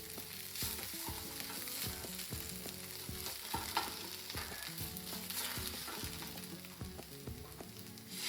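Steady, dense sizzling of tomato paste toasting in a hot frying pan with no talking, crackling evenly throughout with occasional stirring scrapes.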